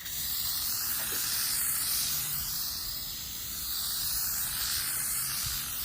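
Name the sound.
spray adhesive can spraying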